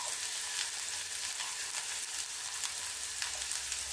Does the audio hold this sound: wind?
no